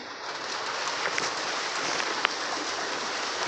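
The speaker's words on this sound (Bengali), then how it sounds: "বৃষ্টি নামছে" Steady rain hisses down evenly on leaves and surfaces among flowers, a dense close wash with faint bird calls behind it.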